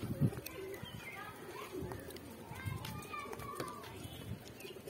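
Pigeons coo and shuffle while pecking at spilled wheat grain that was set out to dry, soft low coos repeating through a busy ambient background with faint chirps.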